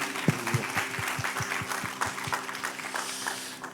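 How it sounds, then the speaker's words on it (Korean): A church congregation claps together after a hymn, steady applause over lingering music and a low voice, moderately loud with sharper claps early that blend into a broad wash of clapping. "우리 인도하시는 하나님께 최고의 영광의 박수 올려드립시다"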